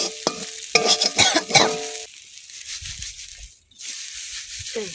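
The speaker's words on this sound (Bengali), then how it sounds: "এই দিয়ে একটু তেল দাও পাট পাতা ভাজা এখন" Jute leaves frying in oil in a home kitchen, with scraping stirs and crackling bursts early on, then a quieter steady sizzle with a brief dip and faint knocks, no talk.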